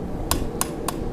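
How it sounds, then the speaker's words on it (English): A forging hammer strikes hot steel four times at an even pace, sharp ringing blows set about a third of a second apart against a low background rumble, while working a twist out of a decorative baroque hook. "I didn't want to spend a lot of time hammering on it to get the twist out"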